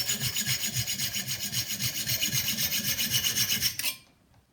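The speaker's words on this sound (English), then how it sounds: "I sharpened the pointed end so it'd be more sharp." A steel nail's pointed end is ground against a file into a sharp spike, a close, steady rasping scrape in quick even strokes that stops abruptly after a few seconds.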